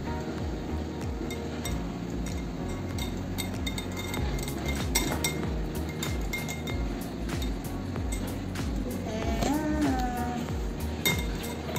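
A spoon mixing hung curd in a bowl, with light scraping and repeated clinks against the bowl over a low steady background hum, close up and with no talk.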